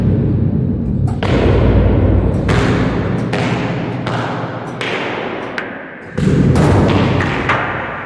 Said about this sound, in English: Next up is silo booms.